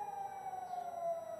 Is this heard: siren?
yes